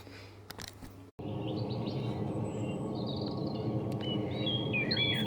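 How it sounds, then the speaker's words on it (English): Birds chirp and trill outdoors in scattered bursts at a moderate distance over a steady low mechanical hum from a boiler, after a brief rustle and a short cut at the start. "Birds are singing like mad out here"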